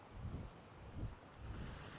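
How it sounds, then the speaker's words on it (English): Ocean waves wash ashore in soft, low swells that rise and fall about three times, quiet and steady under faint wind noise, with no talking. "just listen to the sound of the waves"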